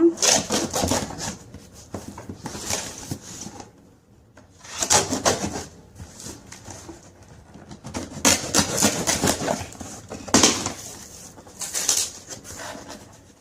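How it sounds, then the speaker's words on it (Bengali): A knife slices open a package, giving several bursts of scraping, rubbing and rustling that come and go in uneven clusters, close and moderately loud, with someone talking between them. "এবার ছুরি দিয়ে খুলবো।"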